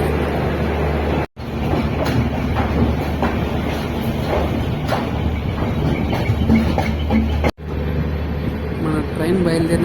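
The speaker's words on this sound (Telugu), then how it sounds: "ఎట్టకేలకు కొంత ఆలస్యంగా మన ట్రైన్ విశాఖపట్నం నుండి బయలుదేరింది." A double-decker train pulls out of Visakhapatnam on its way to Guntur, with a loud continuous rumble and wheel clatter from on board that runs nearly unbroken, under a voice.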